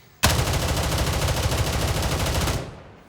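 M4 rifle on full auto in Gray Zone Warfare: a single unbroken burst of rapid, loud, close gunfire lasting about two seconds, ending abruptly with a short fading tail.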